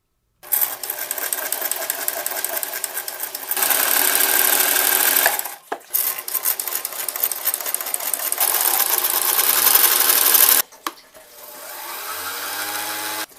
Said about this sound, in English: That, isn't the sound of my toilet. It's this weird fucking fish tank.